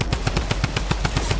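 Rapid automatic gunfire in a video game, a fast, evenly spaced string of about eleven loud close shots packed into a second and a half with no pauses.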